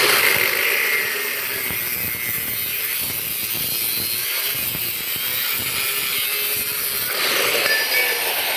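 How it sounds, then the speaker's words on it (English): A saw cuts through the metal seat post of a girl's bicycle being rebuilt into a BMX, with a steady rasping drone of continuous strokes throughout and no talking. "I'm going to cut it just a little bit high because I'm going to grind it flat if needed."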